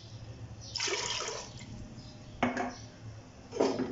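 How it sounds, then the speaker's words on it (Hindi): Three glasses of water splash into a clay cooking pot holding mutton in a few short pours, with a faint clink of the vessel between them. "इसमें तीन गिलास पानी डालेंगे"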